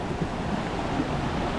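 Flowing, splashing water heard outdoors as a steady, broad rushing wash with a faint wind-like texture, continuous and fairly close, with no voices.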